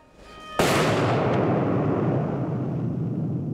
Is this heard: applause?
no